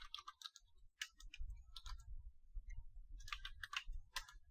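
Keys tap on a computer keyboard during a command-line exercise, coming in quick bursts of clicks with short pauses between, close and fairly quiet with no speech.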